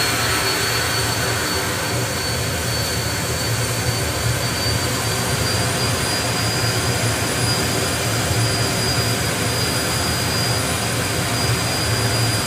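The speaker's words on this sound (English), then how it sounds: "Keep on flipping that afterburner" A drag-racing jet dragster fires its afterburner during a flame show at the FIA Main Event drag meet, a loud, steady jet roar with a high whine that holds unbroken throughout.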